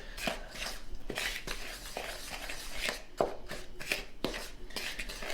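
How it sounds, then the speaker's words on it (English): Dry flour, salt and baking powder are stirred in a bowl, giving repeated scraping and clinking strokes of a utensil against the dish at a steady rhythm, fairly faint and close. "I'm going to give this a good mix."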